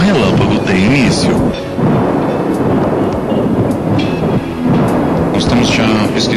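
Heavy, continuous thunder rumble after a lightning strike in Brazil, loud and close, with rolling low energy swelling and dipping briefly; a voice seems to speak faintly underneath.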